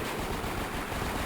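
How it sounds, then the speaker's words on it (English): Dense, continuous gunfire from the Nintendo DS game 007: Blood Stone, a rapid run of shots as a magazine is emptied. "Emptying my magazine."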